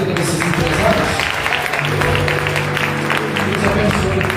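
A church congregation at an Assembly of God service in Mirassol applauds, a sustained wash of clapping from the crowd, with a voice and some music carrying over the top.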